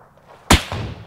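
One sharp, loud sniper rifle shot cracks in a PUBG battle-royale match, a single abrupt blast with a short booming tail and faint echo.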